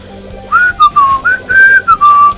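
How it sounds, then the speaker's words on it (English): A person whistles a short, bouncy melody of about seven clear, loud notes in quick phrases over quiet game sounds during Sonic Generations commentary. "I don't know why I'm whistling during a Sonic game and during commentary."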